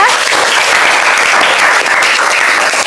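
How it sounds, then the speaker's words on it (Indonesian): Classroom applause for two classmates, a dense, steady clapping from a group of students filling the whole stretch, loud and close with no talk over it. "Beri tepuk tangan dulu untuk kedua teman kita."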